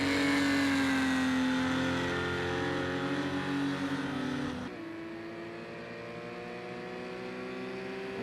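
Porsche Cayman Cup race cars in Project CARS 2 on the Brno GP circuit, a loud steady engine drone with sustained high revs that shifts pitch abruptly partway through as a gear change or passing car alters the tone.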